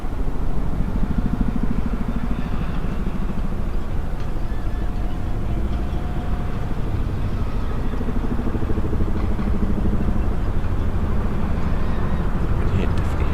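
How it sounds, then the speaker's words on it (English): A continuous low engine drone with a throbbing rotor pulse fills the scene, steady and loud, like a helicopter flying close by, at a port as cruise ships depart. "That's like a helicopter somewhere now."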